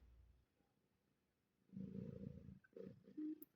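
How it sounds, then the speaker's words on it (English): A pet cat purring nearby, a faint, low rumble that swells into a couple of louder, uneven bursts after a quiet stretch. "I think you are hearing my cat right now purring"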